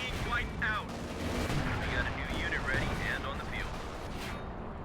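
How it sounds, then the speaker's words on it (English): Calliope rocket artillery barrage in Company of Heroes 2, a rapid rumbling volley of rocket launches and blasts under a fairly quiet, busy battle mix, with a commentator talking over it. "Calliope barrage."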